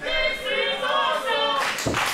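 Wrestling crowd at a live match applauding and cheering, a broad roar of hands and voices filling the space, swelling near the end with a louder burst of clapping.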